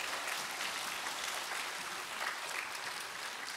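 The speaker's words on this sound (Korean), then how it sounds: "일어날 수 있도록 격려의 박수를 주시겠습니다" Church congregation applauding to encourage the elementary group at a Friday evangelism school, a soft, continuous wash of many hands, distant and uniform.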